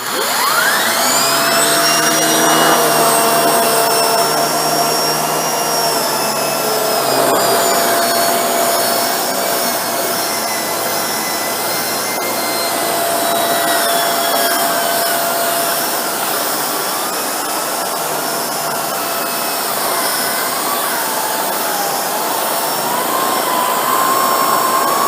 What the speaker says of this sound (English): Now we'll turn the vacuum on and give this a go.